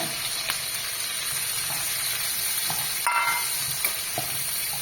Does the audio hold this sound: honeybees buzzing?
no